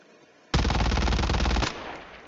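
Weapon fire in Call of Duty Mobile on a training ground, a single loud sustained burst of rapid automatic shots lasting just over a second, with quiet game ambience before and after.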